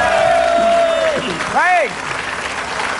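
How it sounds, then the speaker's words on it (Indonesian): Studio audience at a television game show clapping for a contestant, a steady background patter of applause under a loud host voice and a swooping musical sting. "Tepuk tangan untuk Savitri!"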